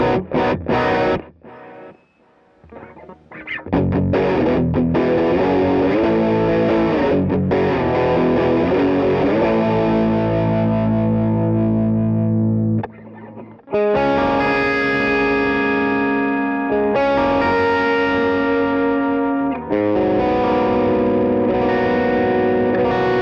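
Electric guitar played through a Vox AC30 2x12 cabinet impulse response with effects, giving distorted, sustained chords and riffs that ring out, pause briefly, then return brighter and steady, close and loud with no talking.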